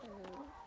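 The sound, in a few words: chickens clucking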